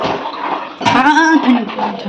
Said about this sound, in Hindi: थोड़ा सा और पानी डालूँगी क्योंकि ये पक के गाढ़ा होने वाला है